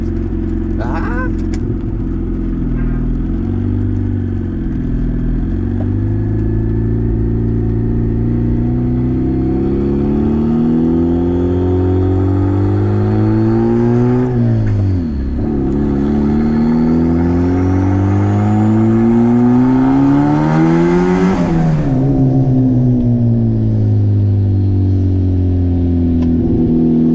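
Turbocharged Mazda Miata engine on a dyno, revving repeatedly through rising and falling sweeps with a loud turbo whine climbing at each peak, while voices speak over parts of it.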